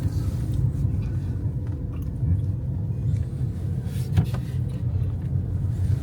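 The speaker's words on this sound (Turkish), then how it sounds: "İlk defa sağda direksiyonlu araç kullanıyorum ben de." A right-hand-drive rental car cruising on a road in Cyprus, heard from inside as a steady low engine and tyre rumble, continuous and even, with no talk over it.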